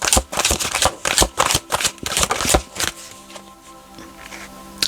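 A deck of tarot cards being shuffled by hand: a rapid series of crisp riffling bursts and slaps, close and fairly loud, tapering into quieter rustling toward the end.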